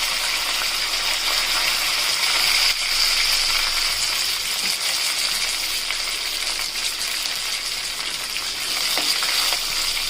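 Chana dal, curry leaves and dried red chillies crackle and sizzle in hot oil for a tomato chutney tempering, a steady, loud frying hiss with no talk.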